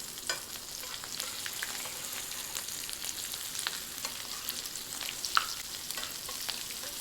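A black bean and chickpea veggie burger patty fries in a pan with a steady, soft sizzle, faint crackles popping up now and then, no voices present.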